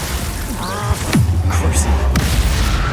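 Bombarda and Confringo spell blasts in the Hogwarts Legacy video game: a couple of booming low thuds over a steady rumbling game soundscape, loud and close, with a voice casting spells between them.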